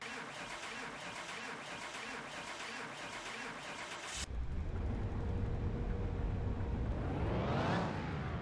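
A virtual car engine on a dyno in Car Mechanic Simulator 2021 roars steadily, then its pitch climbs and falls away near the end in a loud, continuous rev run.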